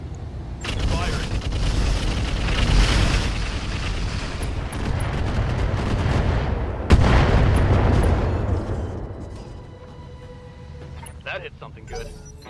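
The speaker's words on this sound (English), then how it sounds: "this new missile sound effect that I downloaded is kind of stupid" Missile launches and impacts in the mech combat game BattleTech with an advanced universe mod: a sustained roaring rush of blasts, a sharp loud boom partway through, then a fading rumble with faint mechanical tones.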